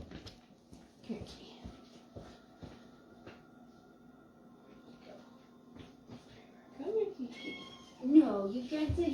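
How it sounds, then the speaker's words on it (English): An indoor cat meows a few times, faint at first and then louder and more insistent near the end, while a person talks quietly over a low steady hum. "you can't sit here meowing at me the whole time"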